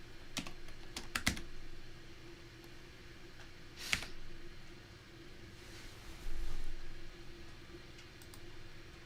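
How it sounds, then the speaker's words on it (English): Sparse keystrokes on a computer keyboard: a quick cluster of crisp clicks near the start, then a single louder tap, all over a steady low room hum with no voices. "Fine, I'll type it by hand."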